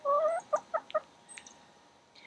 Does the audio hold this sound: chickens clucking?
yes